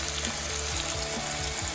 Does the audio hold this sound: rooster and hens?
no